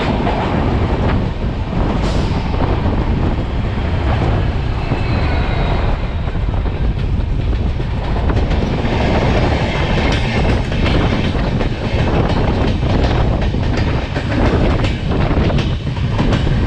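The Guwahati Silchar Express, hauled by twin ALCO diesel locomotives from Lucknow, rumbles past loud and close with a steady heavy roar, clattering wheels and a brief horn-like tone early on.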